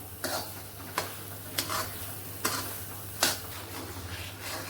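Spoon stirring a thick mix of melting sugar and mawa paste for peda, heard as about five soft scraping strokes spaced roughly a second apart over a low steady hum, with no one talking.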